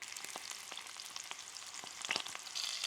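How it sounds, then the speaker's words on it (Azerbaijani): A steak fries in a hot pan with a close, crackling sizzle and scattered pops. It grows a little louder toward the end, with no voices. "Və əti atdım tavaya, qızarmaya başlayır yavaş-yavaş."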